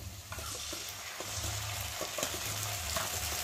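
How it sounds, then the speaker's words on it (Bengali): Onions and green chillies sizzle steadily in a hot pan while a spoon stirs through them with brief scraping knocks, ahead of adding ground mustard paste for a bitter gourd dish; close and continuous, with no talking. "আর উচ্ছে ঝাল করবো বলে দেখতে পাচ্ছ পেঁয়াজ আর লঙ্কাটা ভালো করে ভেজে নিয়েছি"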